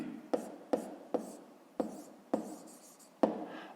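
A pen scratches out a math inequality in six short, sharp strokes, each a crisp tap followed by a brief drag, spaced unevenly and recorded close up in a quiet room.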